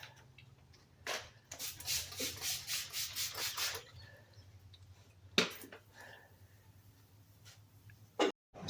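A headlight lens is hand-sanded with 3000 grit sandpaper: a quick rubbing pass, then a run of about ten rhythmic strokes close by, followed by quiet and a couple of short scuffs, with no talking.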